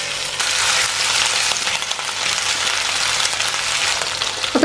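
Chicken pieces for chilli chicken fry in hot oil, a steady loud sizzle running unbroken for nearly five seconds with a sharper crackle near the end.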